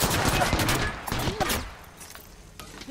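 Gunfire rattles in Apex Legends, a dense volley of rapid shots in quick bursts that thins out and fades within a few seconds.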